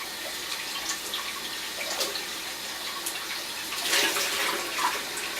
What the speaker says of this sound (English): let's start by adding some warm water to my filter